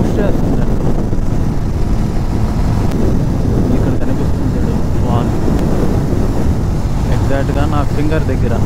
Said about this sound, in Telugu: విండ్ మాత్రం భయంకరంగా ఒక సైడ్ పుష్ చేస్తుంది